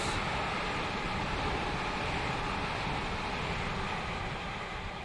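A steady, loud broadband rumble of a train rolling past in Train Sim World 3 on the Edinburgh to Glasgow line, sustained and even throughout.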